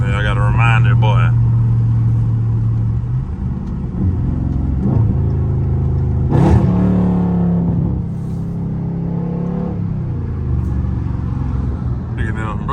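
A Dodge Charger Scat Pack engine rumbles and revs loudly in the foreground while driving in traffic, with people talking over it throughout.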